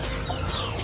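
A Kasra rooster clucking, a short low throaty call heard close and clear over faint background noise.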